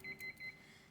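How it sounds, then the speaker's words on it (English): A multimeter set to continuity mode, used while probing a guitar overdrive pedal clone during assembly, gives three short, even electronic beeps in quick succession, fairly faint and alone against a quiet background. "get your multimeter out, put it in beep mode for continuity"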